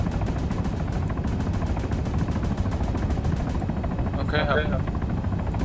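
Helicopter flying in the military shooter game ARMA III, a loud constant rotor chop with rapid regular pulsing that runs throughout under a man's brief speech.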